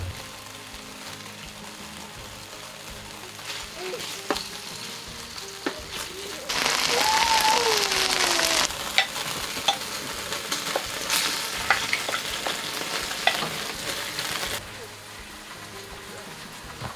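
Moose meat frying in a pan in a tiny kitchen, one batch of several: a steady close sizzle swells for several seconds with stirring scrapes and clatters, then settles back to a quieter hiss.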